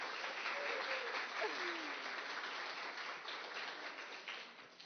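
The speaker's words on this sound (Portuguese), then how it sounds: "Palmas para a Lúcia." A crowd claps steadily at an event beside a canteen, welcoming the cook Lúcia; the dense applause stays loud and even throughout, with a faint voice briefly rising underneath.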